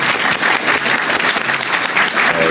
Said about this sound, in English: Give Anne a round of applause.